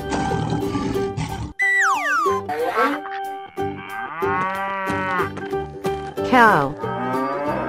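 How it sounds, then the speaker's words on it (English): A cow moos in a cartoonish game scene, long drawn-out lowing calls that bend in pitch, mixed with springy sound effects and upbeat music, loud and near. "Cow."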